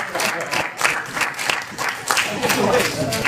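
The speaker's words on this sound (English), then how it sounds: "Give him a hand of applause." Audience applause for a hypnosis volunteer at a speed induction lecture in Nashville, a steady wash of many hands clapping throughout with some crowd noise and voices mixed in.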